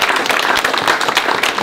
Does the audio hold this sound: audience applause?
yes